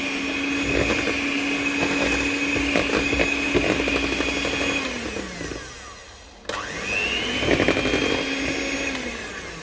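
Electric mixer beating cake batter, a loud steady motor whine that runs, winds down and briefly stops, then starts up again and continues, with no talk over it.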